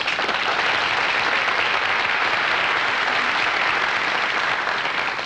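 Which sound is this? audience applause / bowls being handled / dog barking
audience applause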